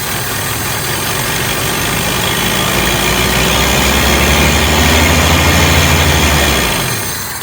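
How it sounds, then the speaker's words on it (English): A 1983 Toyota 22R engine that sat for over 20 years idles loudly and up close, a steady rough rumble that swells slightly and then starts to fade near the end. "let me just see if it'll idle one more time"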